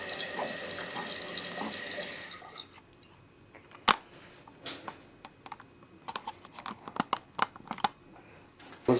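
A Gerber high-mount 1.6-gallon toilet tank refills after a flush, a steady rush of water for the first two seconds giving way to quieter trickling, drips and a few sharp clicks and knocks.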